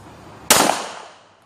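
A single sharp, loud gunshot cracks out at a twenty-yard shooting practice range, then quickly fades away.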